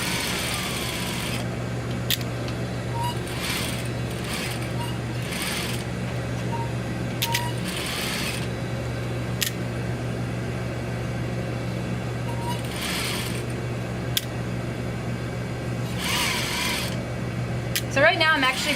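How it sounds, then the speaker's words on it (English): A sewing machine stitches jacket lining pieces together around a curve, running as a steady mechanical hum with a low drone and periodic bursts of faster whirring, close and continuous throughout. "I'm going to go ahead and sew these together around that curve"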